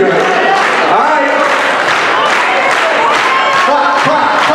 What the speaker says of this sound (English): Let's clap with no music, so let's just make our own music